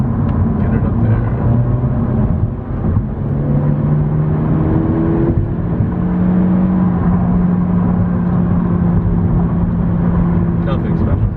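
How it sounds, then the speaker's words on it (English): A Honda Civic Hatchback Sport engine drones steadily while accelerating, its rumbling exhaust note rising and shifting in pitch, loud and close throughout. "let's see if some of the exhaust will come through here"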